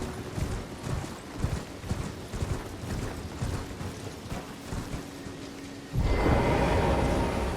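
Horse hooves clip-clop at a steady, even trot while riding in the video game Elden Ring, moderately close, ending in a louder, broader rush of noise near the end.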